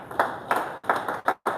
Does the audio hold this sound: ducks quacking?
no